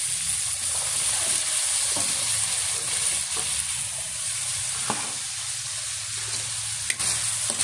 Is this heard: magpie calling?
no